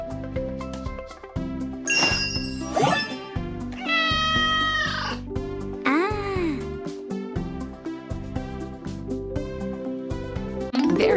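A cartoon kitten mewing repeatedly in short, high, bright meows over a bouncy children's music track with plinking tones.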